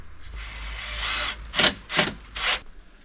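Sandpaper rubs across a wooden cabinet piece, first one long steady scrape, then three shorter strokes in an even rhythm, close and fairly loud with no talking.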